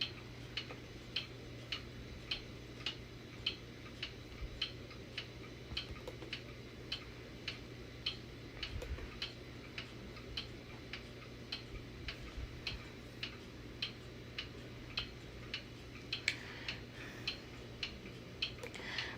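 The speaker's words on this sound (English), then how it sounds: "these clocks are loud and people would be trying to sleep" Many mechanical clocks tick together in a quiet room during a chat about clock repair, a steady overlapping rhythm of sharp ticks, roughly two per second, with a low hum underneath and no talking.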